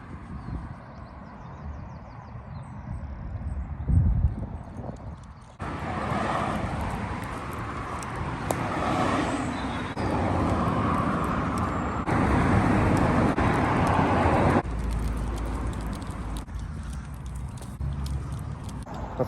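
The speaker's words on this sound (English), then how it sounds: "The noise of the traffic was just doing my head in." Steady road traffic rumbles along a busy road on a sunny day, a continuous broadband roar with vehicles swelling past at close range and no talking.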